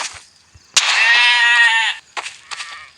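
Zombie sheep in a video game give one long, loud, wavering bleat at close range, with short clicks before it and a couple of fainter bursts after.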